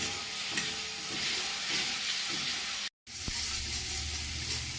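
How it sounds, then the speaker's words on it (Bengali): Spices with tomato paste, salt, turmeric, coriander, cumin and Kashmiri chili powder frying in a pan, a steady close sizzle with soft stirring scrapes throughout and a brief cut near the end. "এতে টমেটো পেস্ট, নুন, হলুদ গুঁড়ো, ধনে গুঁড়ো, জিরে গুঁড়ো আর কাশ্মীরি লঙ্কার গুঁড়ো দিয়ে এটা একটু ভালো করে মশলাটা একটু কষিয়ে নিচ্ছি"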